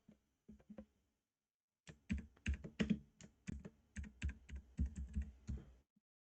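Keys clatter on a computer keyboard in quick, uneven bursts as a message is typed into a live stream chat, close and fairly quiet, with a pause after a few opening taps and no talking.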